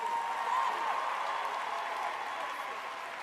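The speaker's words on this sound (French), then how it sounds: "Est-ce qu'on peut encore une fois de plus applaudir pour nos deux amis" Audience applause for two performers at a singing competition show, a steady wash of clapping from a crowd at moderate distance, fading slightly toward the end.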